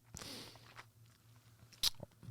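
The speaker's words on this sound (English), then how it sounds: "I rarely have the discipline to not chew a mint." Crunchy chewing and biting of a mint at close range, a few sharp crackles and soft squishy bites spread over a couple of seconds with no voice.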